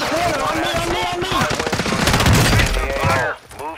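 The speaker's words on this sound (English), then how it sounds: "We're getting shot at." Rapid bursts of automatic gunfire in a Call of Duty match, dense overlapping rattles and shots up close that fill the clip, with excited voices talking over the firing before it cuts off abruptly near the end.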